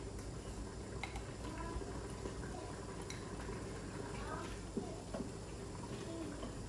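A steady low bubbling and simmering of a thickening macaroni sauce in a pot fills the whole stretch, with occasional soft clinks and stirring scrapes close by.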